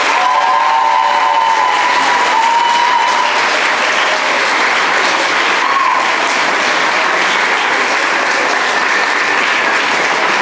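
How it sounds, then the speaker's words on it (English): Loud, sustained applause from an audience after a senior's speech at a school event, continuous clapping filling the whole stretch with faint background voices. "Can we get another round of applause for today's speaker?"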